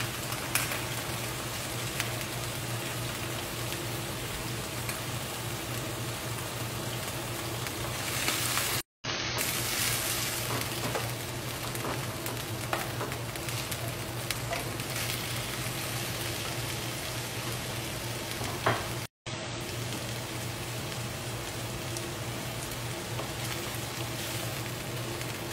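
Onions added to chicken frying in a pan, giving a loud, steady sizzle with crackling pops throughout and two brief cuts in the sound.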